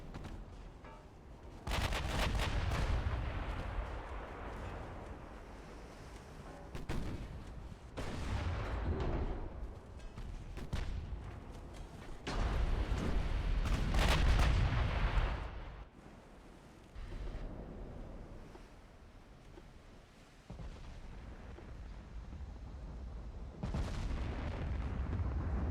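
Naval high-explosive shell fire in Ultimate Admiral: Dreadnoughts booms in heavy, overlapping volleys of rolling artillery blasts, loud and sustained with brief lulls between salvos.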